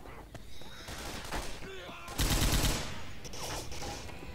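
Bursts of M16 rifle fire in a Left 4 Dead–style zombie video game, a dense loud volley midway with scattered shots and game noise around it, under the player's ongoing speech.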